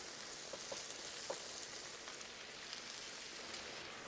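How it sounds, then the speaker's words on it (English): Garlic and tomato paste sizzle quietly in olive oil in a big pot of Tex Mex pasta fagioli, a soft, steady crackling hiss with faint pops. "Time to toast off some garlic and tomato paste. I'm going to sneak a little olive oil on that garlic."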